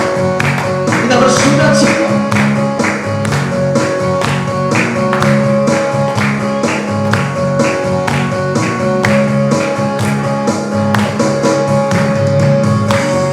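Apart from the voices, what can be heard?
congregation clapping hands in church worship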